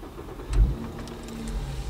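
A 2006 Volkswagen Golf 5 R32 fires up with a quick low thump of the starter catching, then settles into a smooth, quiet idle hum close by.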